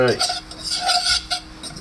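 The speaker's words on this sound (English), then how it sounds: "we're going to go ahead and add our flour and just stir that." A metal utensil stirs flour into melted, bubbling butter in a pan for vegetarian gravy, with close, repeated scraping and clinking against the pan and no talk.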